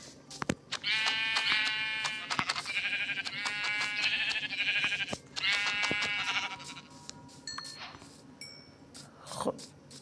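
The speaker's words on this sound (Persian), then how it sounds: "یه گوسفند دیگه" Sheep in a blocky sandbox survival video game give several loud, close bleats in quick bursts, each with a strong buzzy pitch, followed by a few sharp clicks.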